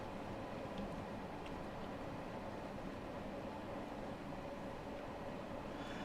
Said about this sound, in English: obviously we're driving a Bakerloo line train